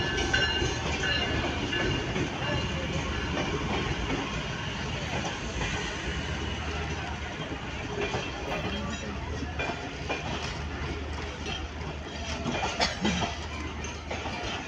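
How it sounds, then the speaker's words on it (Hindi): Train noise on a trip from a village to Karachi: a steady, loud rumble of rail cars with faint clickety-clack, continuous throughout as the train gets under way, with some voices in the background. "अब ट्रेन चलने का टाइम हो रहा है"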